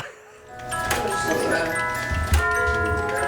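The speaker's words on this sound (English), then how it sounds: "There's always something chiming like you can hear right now." In a clock shop, many clocks tick at once while several chime together, with sustained ringing tones that rise and overlap, and a sharp strike stands out partway through.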